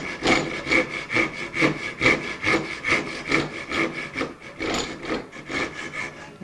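A saw cuts a wood piece free during the build of a 1964 ES 335 guitar, in a steady rhythm of close, rasping strokes, about a dozen back-and-forth passes, with no voices.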